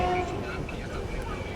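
Steady low rumble and rattle inside a moving passenger train carriage, with a brief tonal horn-like note at the start and voices present throughout.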